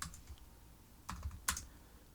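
Keys on a computer keyboard are typed to enter an npm install command: a few sparse, crisp clicks, then a short cluster of taps and one sharper keystroke near the end, close and fairly quiet against a faint room hiss.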